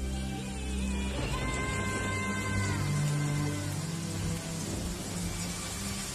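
Steady rain pours down in a continuous broadband hiss, with low rumbling tones and faint musical lines running underneath throughout.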